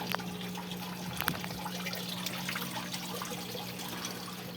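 Water change in a goldfish aquarium: a steady low trickle of water filling the tank, faint and continuous, with a few light splashes and drips.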